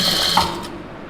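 Sewing machine stitching a salwar: a brief, steady mechanical whirr, close and fairly loud, fading at the end.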